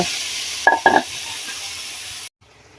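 Ginger and garlic pastes with dried chili powder frying in a pan of oil for an egg and vegetable curry, a steady soft sizzle with a couple of brief stirring scrapes, then cutting off abruptly.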